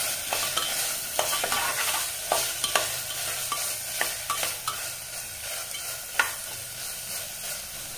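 Mushroom pieces fry in a pan for brown rice biryani, with a steady sizzle and frequent sharp spatula scrapes and taps against the pan as they are stirred, close and clear.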